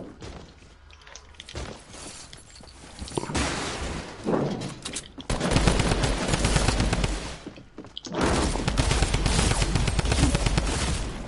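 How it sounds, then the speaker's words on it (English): Rapid automatic gunfire from a video game sounds in dense, sustained bursts, briefly broken by a short pause, with no talk over it. "Hey, it's shooting at me."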